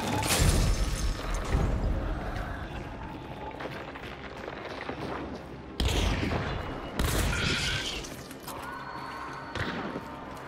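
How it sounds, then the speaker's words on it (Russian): Gunfire in the video game Hunt: Showdown, with several loud, echoing shots and booming bursts spread across a tense stretch of play, some close and sharp, others duller. "У нас выстрелы."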